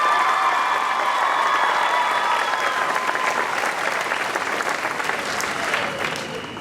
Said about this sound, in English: let's hear it for the 65th Princess Kay of the Milky Way, Rebecca Paskiewicz.